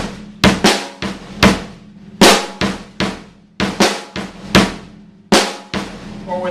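Up-close drum kit groove built on paradiddlediddle sticking, with extra kick drum hits added under the hand pattern, giving evenly spaced punchy strokes and a solid low thump throughout.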